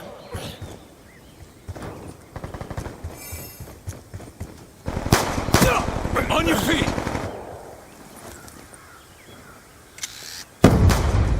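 Rapid video-game gunfire bursts with sharp cracks and rattling volleys, loudest in the middle, alongside game effects and voices talking.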